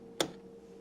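A late-1980s household light switch gives a single sharp, close click against a faint background hum.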